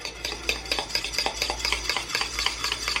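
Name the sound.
stirring pudding mixture into egg yolks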